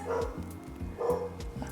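A dog barks twice nearby, two short yappy woofs about a second apart, with faint whining between them.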